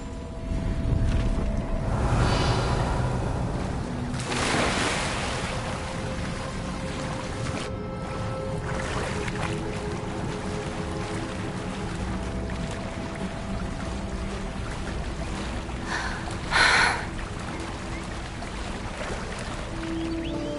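Water bubbles and gurgles in a Hogwarts video game scene, a soft continuous burbling over a low ambient bed, with a brief brighter splash late on and no talk.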